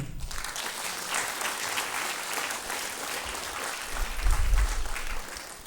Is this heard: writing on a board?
no